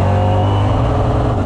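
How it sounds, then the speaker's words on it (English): A EuroNASCAR race car engine at Brands Hatch holds a loud, steady drone for the full second and a half, sounding close and constant as it runs against the rev limiter in second gear, with no voices. "So for us, it's better to hit the limiter for 10 meters in second gear."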